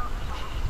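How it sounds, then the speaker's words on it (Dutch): Geese honk in a Dutch nature reserve, a short burst of calls with no talking, fairly close over low outdoor rumble. "Stikt hier van de ganzen."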